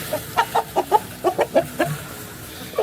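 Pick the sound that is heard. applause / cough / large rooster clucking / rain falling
large rooster clucking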